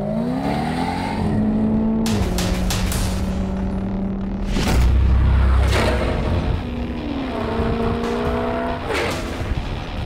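A tuned Jaguar F-Type R ARDEN AJ23 with 640 horsepower roars loudly as it accelerates, rising through gears with sharp shift cracks and pops, then climbs again in a sustained, close engine howl.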